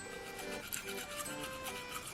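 Bamboo toothbrush scrubbing teeth with mint paste, a soft continuous bristly rubbing heard up close and fairly quiet, with no speech.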